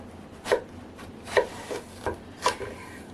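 A knife cuts the tops off flask-shaped eggplants on a board, four crisp, close chops spaced roughly a second apart over a quiet background.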